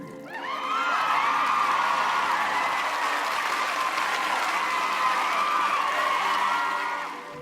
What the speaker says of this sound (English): A thunderous applause erupted from the crowd.